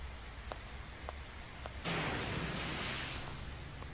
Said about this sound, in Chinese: 下雨下得我都快烦死了啦